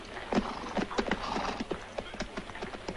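Horses' hooves clip-clop over a Western film scene, a string of irregular sharp knocks at moderate distance, fairly quiet, with no talk.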